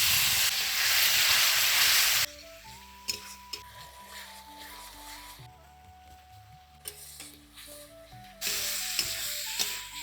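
Ground cumin, coriander, Kashmiri chili powder, turmeric and salt fry with ginger and tomato in a kadai for a cauliflower and katla fish curry, a loud steady sizzle at the start and end with soft melodic music between.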